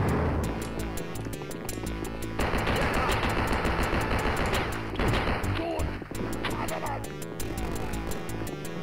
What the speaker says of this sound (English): There's a hell of a lot of bullets.